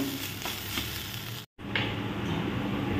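Cut green beans roasting on a hot griddle (tawa), giving a steady soft sizzle with faint scraping and stirring clicks, briefly cut off by a moment of silence before the sizzle resumes.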